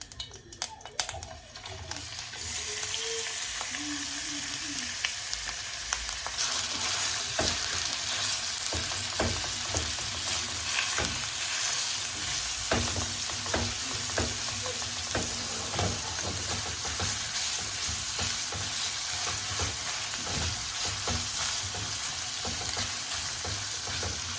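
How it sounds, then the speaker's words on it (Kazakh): Minced meat fries in about 100 grams of oil in a hot pan for a Tashkent-style dish, a loud continuous sizzle with frequent spatula scrapes and taps throughout. "біздің фаршымыз қуырылып жатыр"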